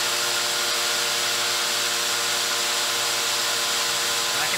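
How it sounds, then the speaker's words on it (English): An electric drill strains under heavy load while spinning an Istabreeze wind turbine alternator on a bench, giving a steady, dense motor whine with broad grinding noise throughout, close and continuous with no pauses. "The drill is really having a hard time here."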